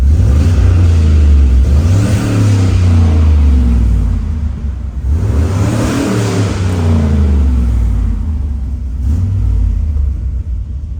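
A turbocharged LS engine in a 1972 Chevrolet C10 pickup revs hard twice, each loud rumbling rise swelling then falling back to a steady idle, close up with no talking.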